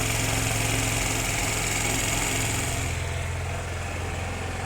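Suzuki GR150 motorcycle engine running at high RPM, a steady loud buzzing drone with a rapid mechanical pulse that eases slightly toward the end, close and without talk.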